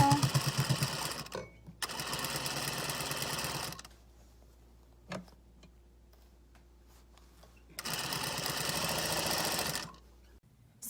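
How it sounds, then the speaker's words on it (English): A sewing machine stitching a side seam and sleeve on a gown sewn from bed sheets, running in two loud, steady bursts separated by a quiet pause with a single soft knock. "just start sewing along that edge, and that's gonna close up the sleeve for us and also close up the side seam"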